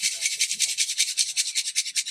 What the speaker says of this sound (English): And the last process, we sift it.